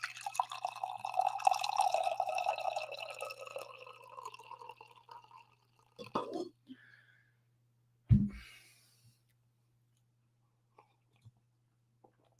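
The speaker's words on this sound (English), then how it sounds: "I'm going to pour one more coffee pour here" Coffee poured into a cup: a steady liquid pour runs for about five seconds, followed by a couple of short clunks and a single knock, then near silence.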